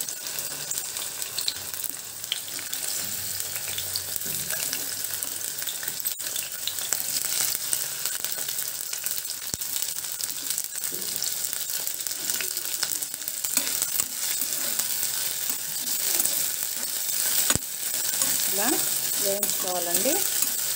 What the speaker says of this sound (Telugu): బెండకాయలు అయితే బాగా వేగిపోయాయండి చూడండి